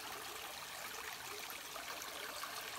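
Water flows down from above along a trekking trail, a faint, steady trickling and streaming hiss heard at a distance, continuous and soft with no voices.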